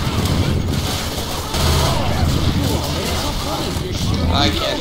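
Rapid gunfire from a zombie-survival shooter, Left 4 Dead 2, rattling steadily at close range under loud, overlapping excited voices of players.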